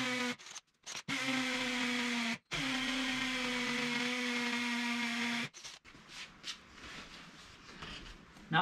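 A budget hammer drill whines in steady bursts, stopping briefly twice, then cuts off, leaving quieter clatter and handling noises.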